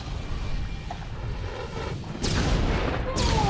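Enemy cannon fire booms during the battle against Thana in the video game SWTOR: dull blasts over a rumbling noisy mix, with two sharper hits arriving in the last second or so.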